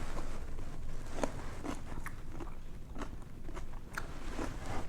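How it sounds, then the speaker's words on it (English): Crunchy bites and chewing of a freshly chopped, soaked spicy cucumber, a series of sharp close crunches repeating every half second or so, loud against a steady background hiss. "Oh wow, do you hear that? You hear how crunchy that is?"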